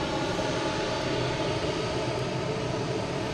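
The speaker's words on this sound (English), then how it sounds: "here's the JetBlue heading to London Heathrow" A JetBlue airliner departs Boston Logan bound for London Heathrow, its engines a steady, broadband roar that stays loud and even throughout with no voices over it.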